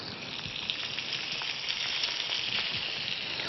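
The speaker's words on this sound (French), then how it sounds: "On laisse rissoler 2-3 minutes." Chicken supremes browning in hot oil in a frying pan give a steady, close, dense sizzle with fine crackling spits throughout. No one speaks.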